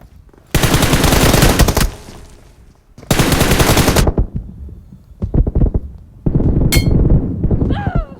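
Video game gunfire in three long, dense automatic bursts separated by short pauses, loud and close, with faint sounds in the gaps.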